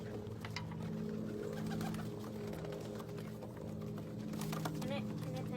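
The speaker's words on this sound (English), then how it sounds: "Can I pet the bird?" Pigeons coo steadily in a low, continuous murmur, close and fairly loud, with scattered flutters and clicks on top and people talking over them.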